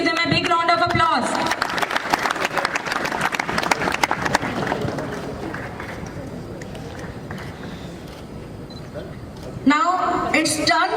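Students give loud, dense applause at a school investiture ceremony. It swells, then fades away over several seconds before a voice speaks again near the end.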